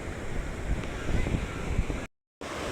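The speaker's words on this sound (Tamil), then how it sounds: "தண்ணி பாருங்கள் எப்படி ஃப்ளோ ஆகிட்டு இருக்குன்னு" River water flows near Masani Amman Temple at Anaimalai, Pollachi, making a continuous broad outdoor rushing mixed with wind buffeting the microphone, with a brief cut-out near the end.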